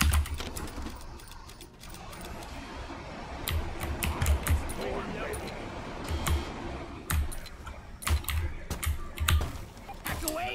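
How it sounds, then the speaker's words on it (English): Hacking in the Deep Rock Galactic video game rattles like a blue-switch mechanical keyboard, with bursts of sharp clicky keystrokes coming in uneven clusters over game background noise and occasional voices. "Why is hacking noisy? Well, it's because it's got blue switch mechanical keyboard"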